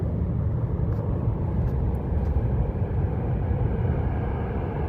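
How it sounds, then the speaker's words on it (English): A Janet airline plane at an airport readies for takeoff, its engines giving a steady low, broad rumble that stays constant and fairly loud from a distance, with no talking. "that's a Janet plane getting ready to take off"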